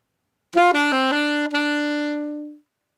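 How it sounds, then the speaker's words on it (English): A saxophone plays a quick triplet of three short notes, then settles into one long held tone that fades out, played alone. "So that triplet pattern would sound like this"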